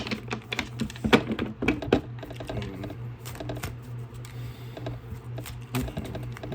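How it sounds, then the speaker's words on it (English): Soft, irregular papery taps and slides of tarot cards being shuffled close by, with a steady low hum underneath and no talking. "I already shuffled before I started recording. I just want to shuffle in."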